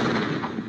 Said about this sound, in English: that moment of gunfire is the most shocking part of the movie